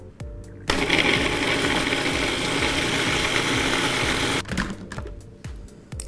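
A food processor blending mango, shishito peppers and coconut cream runs in one loud, steady whirring burst of about four seconds, with small clicks and knocks before it starts and after it stops.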